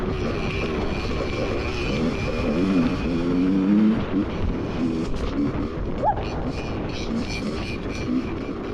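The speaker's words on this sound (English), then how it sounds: "Suresh is riding ahead at high speed." A dirt bike ridden at high speed on a rainy stormy trail, a continuous rough engine roar with wind and road noise, rising in pitch briefly, fairly close.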